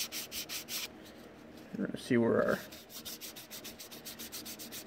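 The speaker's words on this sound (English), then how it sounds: "We're gonna do a little bit of block sanding on this." Rhythmic back-and-forth block sanding strokes on primer, a steady scratchy rubbing repeated evenly, briefly interrupted by someone speaking before the strokes resume.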